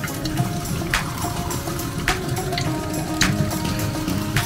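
Raw clay being mixed with water in a pit, a steady wet sloshing and churning with occasional splashes and drips, fairly close and alone.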